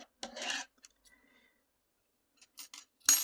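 Scissors snipping a small tail of yarn from a crochet granny square: a few short, close rasping cuts and rubs separated by silence, quiet and without speech.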